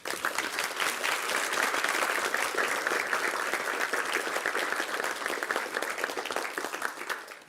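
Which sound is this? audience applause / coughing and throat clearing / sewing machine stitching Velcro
audience applause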